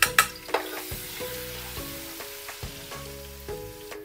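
Sizzling and stirring in a pan as a whole head of garlic is sautéed after frying, with a steady hiss, a few sharp clatters near the start and repeated spatula scrapes throughout, no voices.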